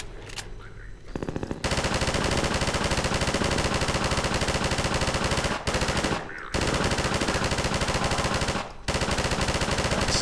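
Automatic gunfire in the video game Half-Life 2, long sustained bursts of rapid shots broken by three brief pauses, loud and dense throughout.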